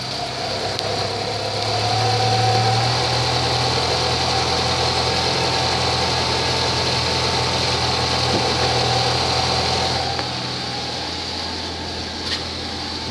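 A 2016 Nissan Altima S idles steadily in drive, a smooth mid-pitched engine hum with faint cabin vibration, continuous and fairly close, easing slightly toward the end.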